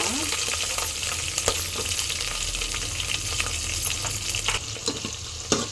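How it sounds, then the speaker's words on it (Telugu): Dried red chillies, green chillies, garlic and onion fry in oil for a summer greens saaru, a constant close sizzle broken by several sharp stirring clinks and scrapes, with no talking. "ఇప్పుడైతే ఎండుమిరకాయ పచ్చిమిరకాయ వేసేస్తా ఉండానండి తర్వాత తెలగడ్డలు దాని తర్వాత ఎరగడ్డ"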